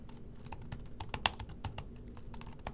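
Fast, uneven keystrokes clatter on a computer keyboard, a run of crisp, close clicks with a few sharper taps, steady and fairly quiet throughout with no voice.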